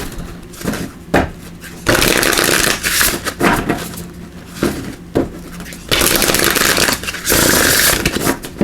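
Bursts of brisk oracle card shuffling, riffling and slapping in several rounds with short pauses between, close and fairly loud, no talk.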